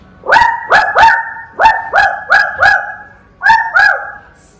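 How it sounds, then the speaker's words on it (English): A dog barks repeatedly in loud, close bursts, about eight sharp barks in quick succession with brief pauses, no talking. "She was barking and coming to the shed."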